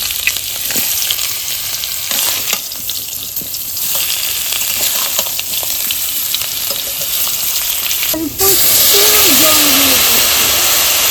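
Coconut shells and panch phoron spices frying in hot oil for coconut pickle, a loud, steady sizzle and hiss up close with occasional stirring scrapes and a sharp flare of bubbling near the end.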